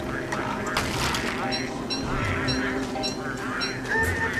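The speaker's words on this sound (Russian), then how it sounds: "А, долбанная птица." In the video game Don't Starve, a bird lets out repeated squawks and honking calls over busy game sound effects and music, with someone talking throughout.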